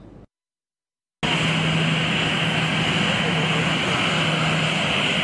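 Steady, loud roar of an airplane engine at a head of state's arrival in Lualaba, bursting in after a short silence and holding constant, with possible faint talk beneath.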